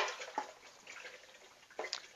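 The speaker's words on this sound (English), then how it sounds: "I'm just going to dump in a massive amount of acetone." Acetone is poured into a brown potash and water solution, giving faint splashing and gurgling liquid sounds with a couple of brief drip-like plops, quiet and close.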